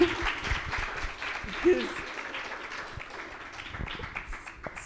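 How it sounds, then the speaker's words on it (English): Audience applause during a medical talk event, fairly faint clapping from a seated crowd with voices talking over it. "we need to give a big round of applause to Anudi,"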